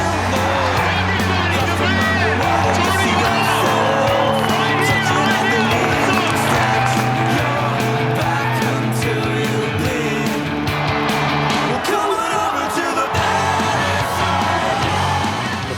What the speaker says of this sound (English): The crowd went crazy. They were the loudest crowd, even for the most basic tricks.